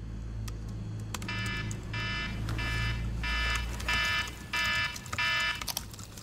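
A phone alarm clock beeps in seven evenly spaced bursts, fairly loud and close, over a low steady hum.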